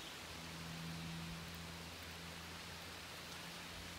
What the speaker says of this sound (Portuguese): Começou a dar uma chuvinha fina.